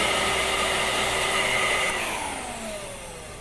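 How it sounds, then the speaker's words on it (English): A Hoover wind tunnel upright vacuum cleaner runs on carpet with a loud, steady whirring roar, its motor pitch sliding down and fading slightly toward the end. "Looks like Hoover wind tunnel technology really does clean carpet better than any other leading brand."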